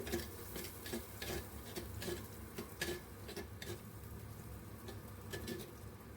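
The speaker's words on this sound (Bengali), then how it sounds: "সেই পেঁয়াজের কুচিটা এর মধ্যে দিয়ে দেব পেঁয়াজটাও ভালোভাবে ভেজে নেব আমি" Chopped onion frying in a clay pot for a mutton curry, a soft, faint sizzle under repeated light clicks and scrapes of a spoon stirring against the pot, with no voices.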